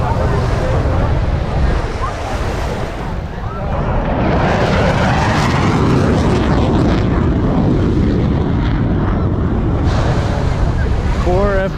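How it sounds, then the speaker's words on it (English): A formation of four F-15 fighter jets passes over Miami Beach at an air and sea show, a loud continuous jet roar mixed with surf and wind noise, with voices faintly present. "Four F-15s over Miami Beach."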